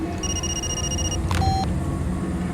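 A phone rings in the Far Cry 2 video game as a short electronic tone burst with a sustained beep, heard faintly over steady in-game background rumble.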